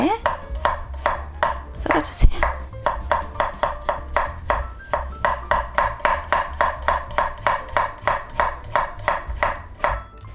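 A knife thinly slices garlic on a cutting board while preparing a Spanish tortilla omelette. Close, crisp chops fall in a steady, quick rhythm of roughly three per second, with a louder clatter near the start.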